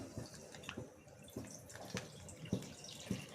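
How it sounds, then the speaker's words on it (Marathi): Milk poured into a pan for malai barfi, a quiet close series of liquid splashes and drips in irregular pulses, faint and without talk. "आता हे दूध आपण पॅनमध्ये टाकून गरम करायला ठेवूयात आता दूध टाकते मी"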